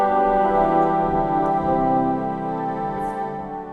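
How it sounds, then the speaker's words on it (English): Organ string stop on the swell division, a sustained chord of thin, bright, reedy string tone with a rich stack of harmonics, steady and close, fading slightly toward the end, with no voices. "Now, I prefer the strings on the swell better."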